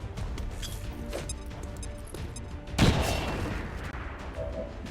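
Grenade explosion in the video game XCOM 2 with the Long War mod: one sudden heavy blast about midway, whose rumble fades out over steady background game sound.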